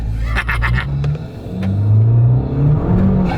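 A remapped Abarth car close by, its engine rumbling and then revving up hard as it accelerates, loud and deep, with a brief burst of higher-pitched noise near the start.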